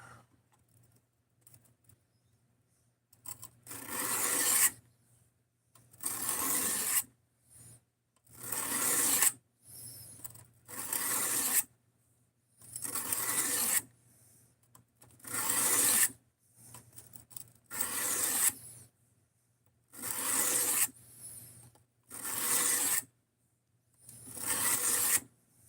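Sanding with 300 grit sandpaper on a random roll setup, in bursts of rough hissing strokes of a second or two each, separated by short quiet gaps. Close and fairly loud, with a low hum beneath and no talk during the strokes.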